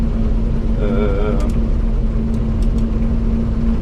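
A Lexion 580 combine harvester working a wheat field in Chernihiv region, its steady loud engine drone and rumble running throughout, with a brief voice passing over it.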